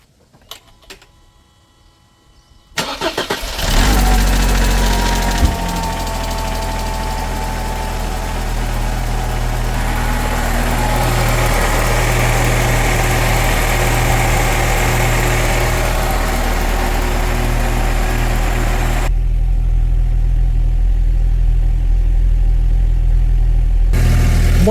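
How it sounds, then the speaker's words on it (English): A Mercedes engine cranks briefly after a quiet stretch, catches, and settles into a steady, loud idle with a fuel pump just revived, running close by without any talk. "And now let's go ahead and crank the engine."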